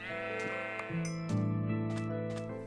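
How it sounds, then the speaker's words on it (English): Sheep in the video game Minecraft bleating several times in quick succession, close and clear, with wavering tones and no talk over them. "Nice, a sheep."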